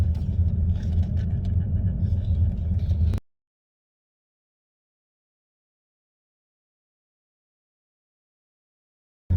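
A BMW E36 or E46 car drives with a steady, loud low rumble for about three seconds, then cuts to silence.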